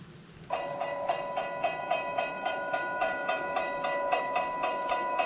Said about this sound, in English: So let me bring back the train.